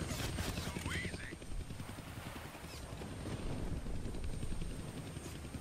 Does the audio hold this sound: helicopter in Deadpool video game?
yes